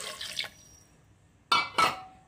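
Water splashing and pouring into a pressure cooker of potatoes for aloo dum, in two short bursts near the end after a brief clatter, close and fairly loud.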